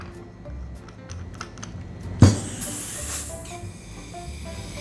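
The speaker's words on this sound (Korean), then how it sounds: "탄산 가스를 넣어 주시면 됩니다." Carbon dioxide gas hisses into a small soda maker bottle with its cap screwed tight, a sudden loud burst followed by a steady broadband hiss that fades over a couple of seconds.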